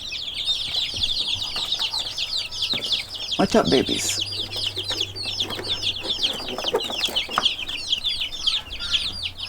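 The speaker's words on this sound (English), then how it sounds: "those are the new breed of chickens on the farm" Farm chickens of a new breed cluck and chirp steadily nearby, with a brief burst of wing flapping and louder squawks midway, while a person speaks softly over the flock.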